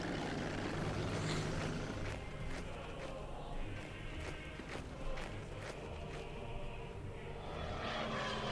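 A Stuka dive bomber's engine in the Order of Battle war game, set at Kharkov in 1943, gives off a steady droning roar under scattered clicks, at a moderate level throughout, with no talking.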